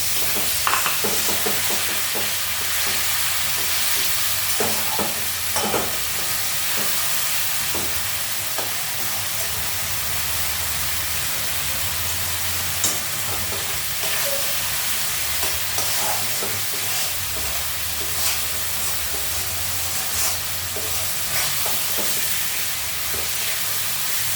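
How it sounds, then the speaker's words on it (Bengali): Spices sautéed with a splash of water in a pan, a steady close sizzle and steam hiss with frequent scraping stirs of a spoon, continuing without talk. "এটাকে ভালো মতো কষিয়ে নেব। মশলা যত ভালো কষানো হয় তত স্বাদ হয়, তরকারি তত স্বাদ হয়। এই জলটা দিয়ে কষাবো।"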